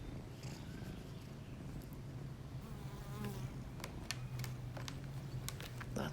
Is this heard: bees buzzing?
yes